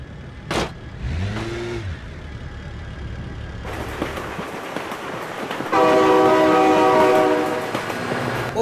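Train horn blares in a vehicle simulation game, sounding in loud sustained blasts over rumbling engine and rail noise, with a brief vehicle pass and revving earlier; no speech.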